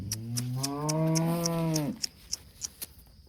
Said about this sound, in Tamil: நல்லா கறக்கு மாடு